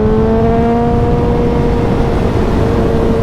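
A powerful motorcycle accelerates to overtake on a road between Oban and Glasgow, its engine note rising steadily as a loud, close, continuous drone mixed with heavy wind rush.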